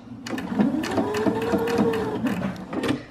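A sewing machine runs a short burst of stitching at the end of a seam, locking it with a back stitch; its rapid mechanical chatter is close and steady, with a faint whine under it.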